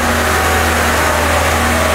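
A car engine held at a steady 2000 RPM during an engine flush in a repair workshop: a loud, continuous, even drone with no change in pitch and no voices.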